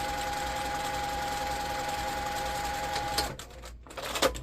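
A sewing machine stitches along a placemat edge with a steady, close whirring hum for about three seconds, then stops, leaving a few soft clicks and handling knocks.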